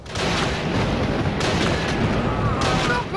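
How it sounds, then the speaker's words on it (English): Sniper gunfire in Call of Duty Roads to Victory on PSP, a dense continuous barrage of shots and blasts filling the scene, loud and close, with shouted voices mixed in. "Sniper shot Clark!"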